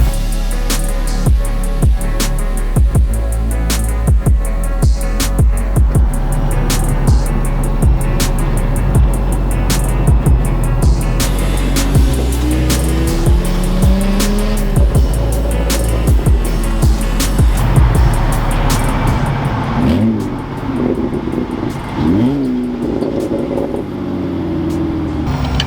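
A car engine misfires and breaks up badly under load, stuttering in rapid irregular pops as if on a two-step limiter. It sounds loud and close throughout, with a rougher, lumpier stretch near the end.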